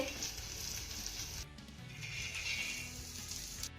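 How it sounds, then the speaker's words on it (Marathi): Handful of peanuts frying with garlic in a pan, a soft continuous sizzle and hiss with faint stirring, fairly quiet and steady throughout. "त्यानंतर हे शेंगदाणे देखील आपल्याला खरपूस असे भाजून घ्यायचे"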